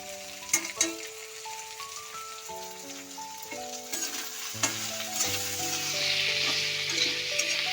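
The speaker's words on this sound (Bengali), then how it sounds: "দিয়ে আমি একসঙ্গে কষিয়ে নেব পরিমাণ মতো।" Spices with Kashmiri red chilli powder fry and get stirred in a pan for a raw banana, potato and parshe fish dish; steady sizzling with scraping stirs and clatters sits under a sustained melodic tone.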